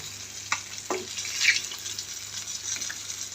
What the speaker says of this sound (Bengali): মাছের এ পাশ এবং ও পাশ দুই পাশই যেন সমান মতো একটু কড়া করে ভাজি হয়